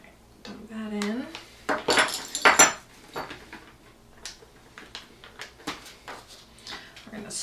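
Milk paint mixture in blush pink being stirred in a container, with clinks and scrapes of a utensil bursting out in a cluster and then continuing as lighter, scattered taps, loud and close with no talk.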